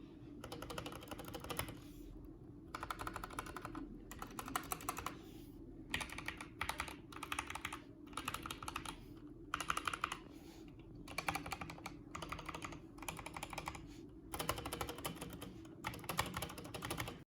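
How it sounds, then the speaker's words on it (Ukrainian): Rapid clacky keystrokes on a HATOR EVO TKL mechanical keyboard in uneven bursts with short pauses, close and crisp, no talking. "А тепер послухаємо, як звучить клавіатура"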